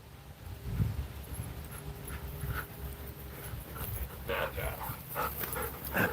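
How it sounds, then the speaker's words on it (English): A farm dog pants and whimpers close by amid steady outdoor background noise, with brief faint thumps and shuffling. "Dog."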